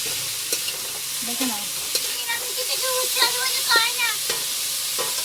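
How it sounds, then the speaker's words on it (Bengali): Bitter gourd and potato slices frying in a pan sizzle steadily while a utensil scrapes and stirs them in repeated strokes; a short spoken remark and other voices come through over the cooking. "এখন আমি রান্না করছি কিন্তু উচ্ছে আলু ভাজা"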